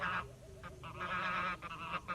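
Several geese being herded in a garden honk close by in a loud, overlapping chorus of repeated nasal calls.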